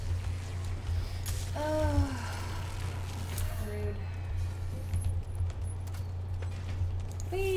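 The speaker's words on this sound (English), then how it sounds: "gonna ride my horse around the point." A horse is ridden in the Paladins video game, its hooves clip-clopping under game sound effects and occasional chimes, with a low steady hum behind.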